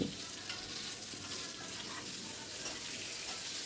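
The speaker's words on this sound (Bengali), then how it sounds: "আবারও এপিটোপিট করে খুব ভালো করে এগুলোকে ভেজে নিচ্ছি" Eggplant pieces fry in oil with a steady, close sizzle and the occasional stir, continuous for the whole stretch with no talking.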